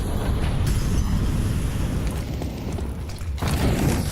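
An incendiary grenade bursts during a professional Counter-Strike match at IEM Cologne 2025, a loud continuous roaring, whooshing rumble that fills the whole stretch, dipping briefly before surging again near the end, with no talk over it.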